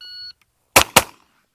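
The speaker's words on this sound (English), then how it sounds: "As soon as the timer goes off, throw it." A shooting timer gives a short electronic beep and two loud, sharp shotgun blasts from a Perazzi High Tech follow in quick succession at close range, fired at clay targets.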